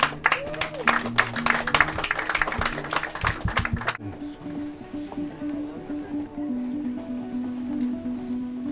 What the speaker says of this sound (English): Little applause, folks